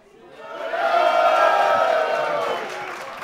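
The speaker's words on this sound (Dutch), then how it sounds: "Met een daverend applaus." An audience at a festive evening party hosted by a classic motorcycle shop breaks into loud, sustained cheering and whooping, swelling over about a second and holding steady before easing off slightly.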